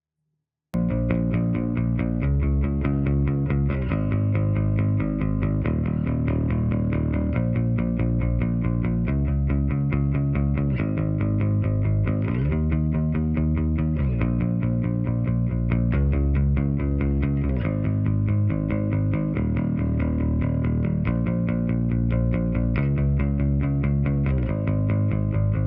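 A Fender Bass VI plays a clean tone through a Tone Master Pro Super Bassman Vintage preset with studio compressor and EQ, steady repeated notes in a rhythmic line, loud and alone for the whole stretch.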